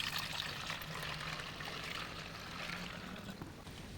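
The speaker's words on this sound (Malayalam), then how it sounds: "ഇനി നമുക്കിതൊരു സ്പ്രേ ബോട്ടിലേക്ക് ഒഴിച്ചു കൊടുക്കാവേ" A homemade pesticide mixture for plants is poured from close by into a spray bottle, making a steady, continuous liquid trickle that runs for the whole stretch without a break.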